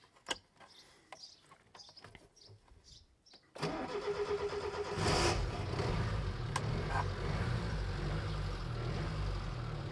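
A small engine, a pull-started unit being revived after four years of standing for off-road use, catches after several quiet clicks and knocks, then runs steadily at a close, loud idle with a rough, even throb.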